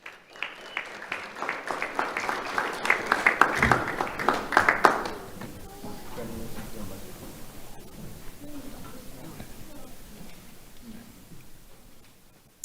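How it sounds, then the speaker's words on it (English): A crowd at a sheriff's office community awards ceremony claps for a student honoree. The applause is steady and moderately loud for about five seconds, then dies away into quiet room murmur. "Let's have a round of applause for Evan Knuckles."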